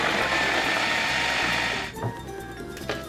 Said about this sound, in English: She scoops the aubergine flesh and pops it in the whizzing machine with milk chocolate